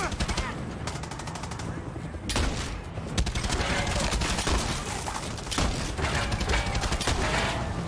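Rapid bursts of automatic gunfire in the video game Far Cry 6, dense repeated shots in several volleys with brief pauses, with a player talking over the action.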